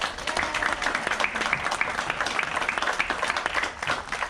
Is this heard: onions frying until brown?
no